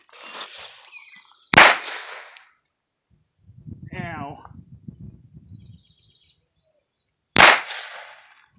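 A Beretta 950B Minx long-barrel pistol fires .22 Short rounds outdoors: two sharp, loud single shots several seconds apart, with people talking quietly between them.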